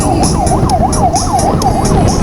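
A siren on an emergency vehicle heading to a fire wails in a rapid, repeating up-and-down pattern, close and loud over road noise.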